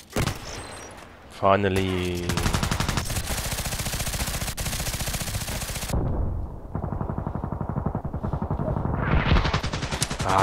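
Rapid bursts of automatic gunfire from the Contract Wars shooter game rattle almost continuously, loud and close, with brief pauses and a single spoken word over the shooting.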